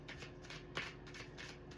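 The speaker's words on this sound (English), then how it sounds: "And I'm shuffling again." Tarot cards are shuffled by hand, producing a soft continuous rhythmic riffling and rubbing at close range with one brief sharper flick partway through; very quiet, with no talking.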